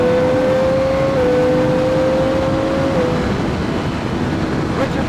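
Motorcycle accelerating at full throttle out of a corner on a rider-training ride, heard as a loud, steady engine drone with constant wind rush and a sustained whine that shifts slightly in pitch.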